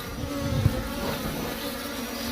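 Bees buzz around an opened wild beehive, a close, steady, droning hum that holds for the whole moment with no voices.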